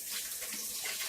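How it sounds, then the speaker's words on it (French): Hands are rinsed under a running kitchen tap while couscous vegetables are prepared, giving a steady soft splash of water that is quiet and close, with no talk. "je vais rincer les mains"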